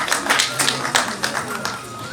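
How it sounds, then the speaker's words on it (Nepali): A crowd applauding at a song release ceremony, a burst of close, dense clapping with sharp hand claps that thins out after about two seconds, and a voice faintly audible underneath. "एकचोटि जोरदार ताली सबैका लागि सबैको साथ"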